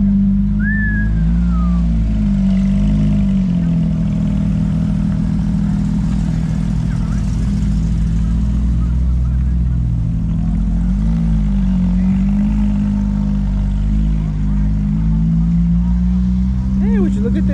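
A GT4 car pulls away with a steady, loud engine drone that rises and falls slightly in pitch, while voices murmur in the background.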